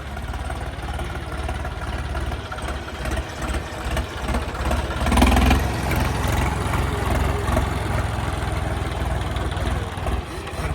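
A tractor engine runs steadily nearby, a low chugging drone that swells briefly, with voices talking over it.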